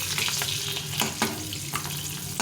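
Boiled eggs frying in a pan of oil, left whole rather than split open, giving a steady close sizzle broken by sharp scraping and stirring clatters roughly every half second.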